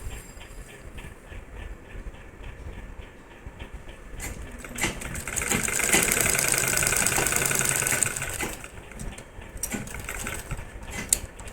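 A sewing machine stitches a saree belt and its elastic section, a steady mechanical whir that runs throughout and swells louder in the middle, with no talking.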